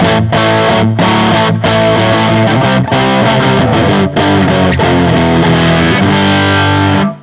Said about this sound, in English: that takes the guitar into, you know, really good sort of classic rock distortion territory